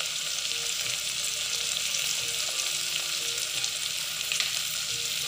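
Onion and potato sautéing in a pan over a medium flame, a steady, even sizzle of frying that runs unbroken throughout with faint stirring, no voices.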